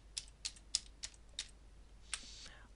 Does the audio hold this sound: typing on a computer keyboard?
yes